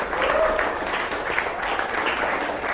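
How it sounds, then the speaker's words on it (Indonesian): Short burst of applause from a vocational school computer networking class, a room of students clapping steadily together at moderate volume, close by. "tepuk tangan dulu"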